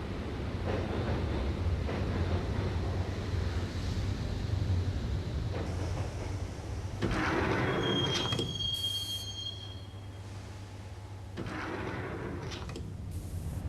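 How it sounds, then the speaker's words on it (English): Subway train ride in the Max Payne (2001) video game: a steady rumbling rail roar with clattering wheels, a sharp metallic squeal, and a slowing hiss as the train settles, no voices. "the train doors had already shut behind me, and I was in for the ride"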